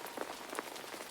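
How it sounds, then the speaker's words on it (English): Rain pattering steadily on trees and the ground, a soft continuous wash of countless small drops with slight crackly peaks, even and unbroken throughout. "The rain pitter-pattered on the trees and the ground."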